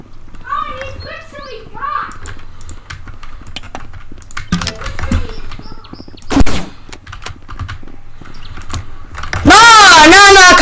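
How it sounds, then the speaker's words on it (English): Gunfire in the VR game Rec Room, a few sharp shots scattered through a busy mix of keyboard clatter and a voice, ending in a loud distorted burst close to the microphone. "Are you shooting at me?"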